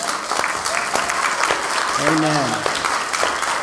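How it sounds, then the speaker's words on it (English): A church congregation at a Christmas Eve's Eve service breaks into loud, sustained applause, with a voice speaking briefly over the clapping partway through. "Will you applaud those who made a commitment tonight?"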